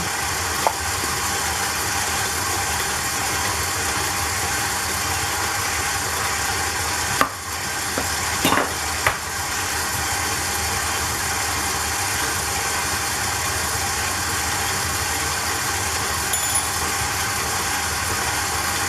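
An electric mixer creams sugar and butter for an oatmeal molasses bake, a steady close motor whir running unbroken for the whole stretch, with a few brief knocks partway through.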